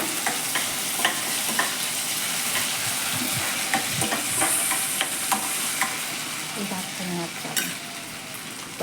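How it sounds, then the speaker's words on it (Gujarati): Grated potato for Kathiyawadi moraiyo sautés in a hot pan, giving a steady, loud sizzle broken by frequent scraping and clicking stirs from a utensil close by. "છીણેલું બટેટું નાખ્યા પછી આપણે એને સેજવાર સાતળી નાખવાનું છે."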